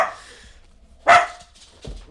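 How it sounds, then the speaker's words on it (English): A dog gives one sharp bark in the middle, followed by a fainter low yelp, with quiet pauses and faint background rumble around them. "What are you barking at?"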